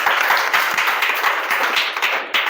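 A classroom group claps for students after an English story lesson, a quick uneven patter of hands that stays fairly loud and close for a couple of seconds.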